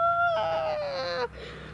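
A voice imitates intense Star Wars music by humming, a strained, whiny wavering tone that slides downward before breaking off abruptly, close and loud, alone without other talk.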